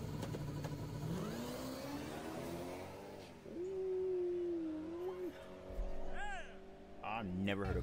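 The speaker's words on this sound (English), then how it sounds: "I never heard a car start like that, yo." A race car engine, a Ford Lightning or Chevy ZR1, fires up and revs, pitch climbing and holding in a high whine, then dropping and surging again, with distant chatter underneath.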